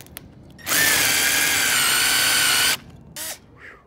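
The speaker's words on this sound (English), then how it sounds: "This is a 1-inch hole dozer. See, it cuts metal." A power drill fitted with a 1-inch hole saw bites into the metal in a tire, a loud sustained high-pitched grinding burst of about two seconds, followed by a shorter second burst.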